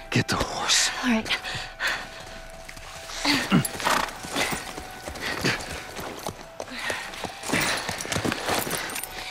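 Horse in The Last of Us Part I, heard as hoof clip-clops, snorts and rough breathing mixed with game noise and short bursts of tense speech.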